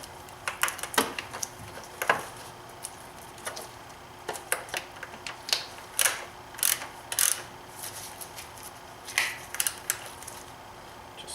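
Bolts on a BMW N52 six-cylinder engine's oil filter housing are snugged down with a ratchet, giving short, sharp clicking bursts in irregular spurts, close and fairly quiet.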